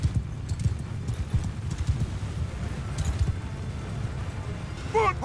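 Horse archers gallop in Mount & Blade II Bannerlord, their hooves a dense, steady clip-clop drumming close by, with a brief whinny near the end and faint voices.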